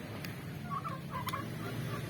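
Turkeys gobble while eating fermented feed in the late afternoon: a few short, warbling gobble bursts rise over a steady low background murmur of the flock.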